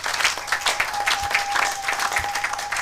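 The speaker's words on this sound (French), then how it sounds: "Acclamez pour la gloire de notre Dieu, de notre Seigneur." A church congregation applauding, steady clapping from many hands at fairly close range, with a voice briefly audible above it.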